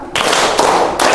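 Several people clap in unison, a few loud, sharp broadband bursts spaced evenly, close and without speech.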